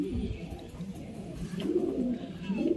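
Racing pigeons arriving home after a 210 km race coo steadily up close, a soft low murmuring that swells slightly toward the end.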